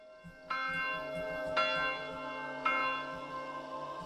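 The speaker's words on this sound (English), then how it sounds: "It's the ding dong of church." A church bell rings three times at a slow, steady pace, each clear toll ringing on and fading beneath faint low background noise, with no talk.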